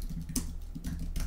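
Light, quick clicks of a computer keyboard as text is typed, a few soft keystrokes close by over a low steady background hum.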